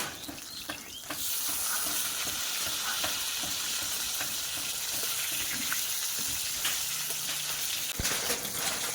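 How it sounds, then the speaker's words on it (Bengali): Pieces of rohu fish fry in hot oil for a Bengali fish curry, a steady close sizzle and crackle running throughout after a quieter first second, with occasional pops and spatter and no talking. "মাছগুলো একটু উল্টিয়ে দিচ্ছি, এদিকে ভাজা হয়ে গেছে।"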